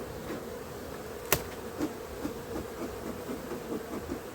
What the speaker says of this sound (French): Et beaucoup d'abeilles.